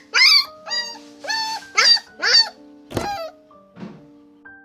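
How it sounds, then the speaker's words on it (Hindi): A dog kept shut in without food gives a run of about eight separate whimpering yelps and whines. They are high and tonal with short gaps between them, loud and close, and one sharper, thumping yelp comes near the middle. "तीसरे दिन ट्रिकी ने थोड़ी थोड़ी आवाजें निकालना शुरू कर दिया"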